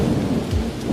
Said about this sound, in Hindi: सचमुच बारिश का पानी छतरी पर से होता हुआ एक तरफ तालाब और दूसरी तरफ नहर में गिरता रहा